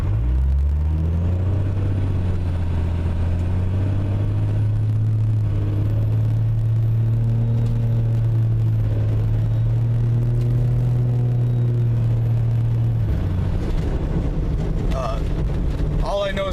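A 2002 Dodge Cummins truck, stock turbo with a new HX40 turbine, idles with a steady low diesel rumble and a thin high turbo whistle held above it for about thirteen seconds before the engine note drops, with wind buffeting the microphone.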